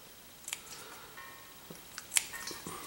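Scissors snip the leaves off Italian parsley, leaving a few faint, sharp clicks and crisp cuts spread over a quiet background.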